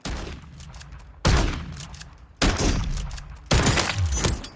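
Three loud, close shotgun blasts from Call of Duty Modern Warfare III Warzone, roughly a second apart, each a sharp broadband crack with a decaying tail, no talk over them.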